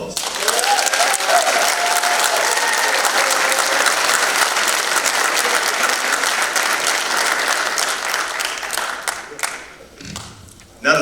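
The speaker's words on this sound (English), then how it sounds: "Let's give another round of applause." Applause at a 2021 senior graduation celebration: a large audience claps loudly and steadily for about ten seconds before it fades, with a thump at the end.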